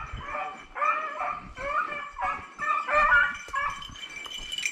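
Hunting dogs on a snowshoe hare hunt bark and yip repeatedly in an excited, uneven chorus, moderately close, with whiny high-pitched cries mixed between the barks.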